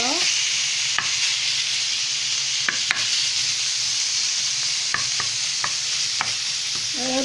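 Minced meat fries alone in a pan with a loud, steady sizzle and a few sharp clicks of stirring.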